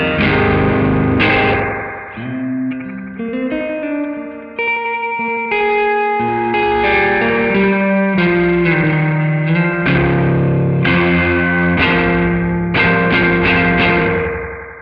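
An electric guitar in a noise rock rig plays chords and melodic lines through an overdrive pedal with the drive turned up, giving a thick, saturated, sustained tone with some reverb.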